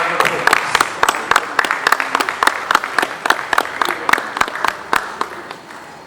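Round of applause at the 14th inauguration of the Nigerian Institution of Environmental Engineers, honoring a professor and rector, with dense clapping from a sizable indoor crowd that holds steady for about six seconds, then tapers slightly.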